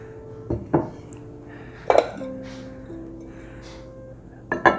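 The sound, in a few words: handling dishes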